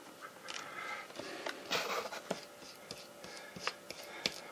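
Soupy drywall mud being stirred for a wall texture art test, with soft wet scraping and slapping strokes in irregular bursts, close and fairly quiet, with no talking.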